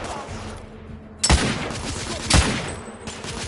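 Gunfire in a firefight against a sniper in the video game The Order: 1886, two loud sharp shots about a second apart cracking over a dense, continuous barrage of background fire.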